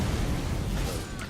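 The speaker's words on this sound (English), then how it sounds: "I just had to backstep dodge both the landing and the explosion." In the Elden Ring DLC, Messmer's attack sets off an explosion: a dense rumbling roar of broadband noise at moderate level that slowly thins out over about a second.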